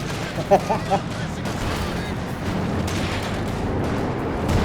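Machine gun fire and explosions in a strategy video game, heard as a few loud booms early on, followed by a continuous rumble of distant gunfire.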